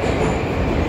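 A train moving through a Moscow station, a steady close rumble of wheels and carriage noise with a faint high whine, brief and continuous.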